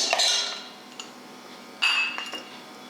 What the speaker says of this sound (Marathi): बर्फाचे खडे घालूया